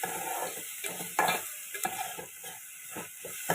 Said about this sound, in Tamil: நம்ம வெட்டி வச்சுருக்கிற கேப்சிகம் இதையும் போட்டு நல்லா வதக்கி விட்டுடலாம்